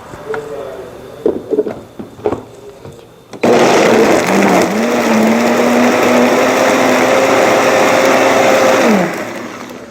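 A blender grinds small shore crabs with water for Korean crab porridge. A loud steady whirring motor starts after a few clinks and handling sounds, runs for about six seconds, then winds down.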